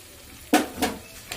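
Chicken being sautéed in a little oil with tomato sauce and chili sauce, three distinct bursts of stirring and sizzling in the pan, fairly close, with quiet pauses between.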